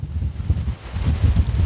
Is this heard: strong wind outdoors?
yes